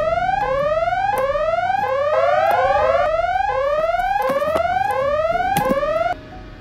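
An alarm siren wails in rapid rising sweeps, repeating over and over loudly and close, then cuts off abruptly near the end with no voices.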